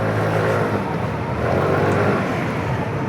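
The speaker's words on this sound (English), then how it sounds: "It makes it quite a lot of fun to get it up in the revs" Steady, loud engine drone from a Sym Fiddle IV 125 scooter held up in the revs, a continuous buzzing roar close by with no talking.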